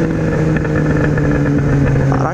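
A Yamaha XJ6 motorcycle with a 4-into-1 exhaust runs loud and close, its engine holding a steady, throaty drone with slight swells in revs throughout.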